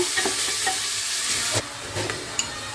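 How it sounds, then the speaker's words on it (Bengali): Chopped onions fry in a pan for a gravy, giving a steady, loud broadband sizzle with a few faint spatula taps over it, close and continuous. "পেঁয়াজটাকে ভালোভাবে ভেজে নেব।"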